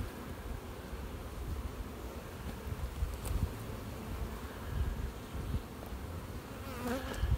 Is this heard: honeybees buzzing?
yes